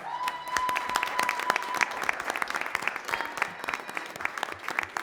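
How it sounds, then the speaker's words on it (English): An audience at a school board meeting claps for the district's Services Professional of the Year, a steady roomful of individual hand claps lasting several seconds, moderately distant. "a huge round of applause for Miss Adler."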